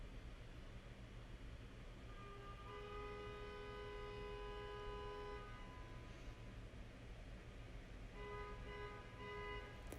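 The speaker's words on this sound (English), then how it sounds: "There's a car outside my apartment honking." A car horn honks outside an apartment in sustained, steady toots, a long blast and then a shorter pair, faint and distant over a steady background hum.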